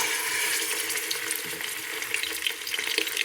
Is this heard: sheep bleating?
no